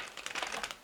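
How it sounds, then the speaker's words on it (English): Soulmate cards being taken out, a brief, close crinkling and rustle of handled cards and wrapping lasting under a second. "Let's get the soulmate cards out here."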